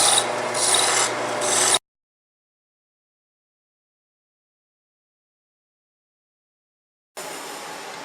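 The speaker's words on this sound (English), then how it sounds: "This is a piece of spruce, and we're just turning it down a little bit smaller diameter than the old one there." A spruce violin sound post being turned down on a lathe, with a short scraping, rubbing run of cutting that stops into silence before a second burst of turning resumes.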